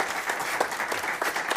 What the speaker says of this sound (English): Nochmal einen großen Applaus bitte.